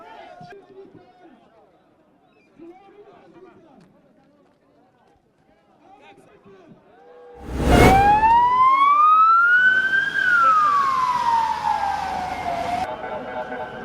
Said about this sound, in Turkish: itfaiyenin sirenlerini duyduk